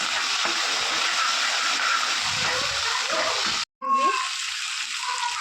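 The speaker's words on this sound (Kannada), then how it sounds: "ಸಾಸಿವೆನ ಫಸ್ಟು ಸಿಡಿಸ್ಕೊತಾ ಇದ್ದೀನಿ" Mustard seeds splutter in hot oil while a masala dosa potato gravy is being made, a close, steady sizzle and crackle with one brief break near the end.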